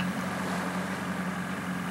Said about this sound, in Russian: а ну заглуши мотор.